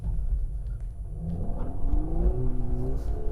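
A Volkswagen Golf R hot hatch on a track, engine droning and rising under load as it slides sideways in a drift, with a steady low rumble and climbing whine.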